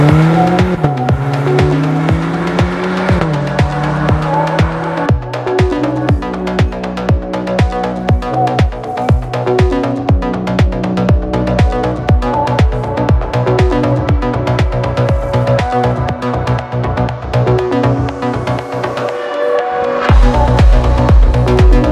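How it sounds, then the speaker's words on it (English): A 2020 Cadillac CT4-V makes a launch-control start, its engine revving hard and rising through the gears with tire noise, loud and close for over twenty seconds with no speech. "Cadillac Ct4-V launch control."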